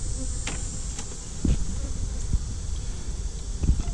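Bees buzz steadily at close range during a bee removal, a continuous drone with a few brief louder passes flying by the microphone.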